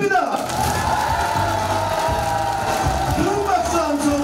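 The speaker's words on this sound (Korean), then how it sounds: "큰 박수 함성 부탁드립니다." A crowd roars and whoops loudly and continuously at the opening of a Democratic Party election campaign office for a Mokpo mayoral candidate, with a dense wall of cheering close around.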